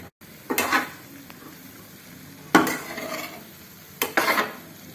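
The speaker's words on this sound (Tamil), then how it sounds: "லோ ஃப்ளேமில் வச்சு இந்த மாதிரி நல்லா கலந்து கொடுத்துடணும்." Spicy sundal being stirred in a pan on low flame, heard as three separate bursts of spoon scraping and rustling against the pan with quiet gaps between them, close and fairly soft.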